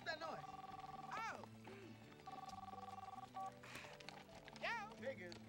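A cell phone rings with repeated electronic tone bursts in a 1999 Wild West comedy scene, the beeping patterns starting and stopping under and between quick lines of dialogue.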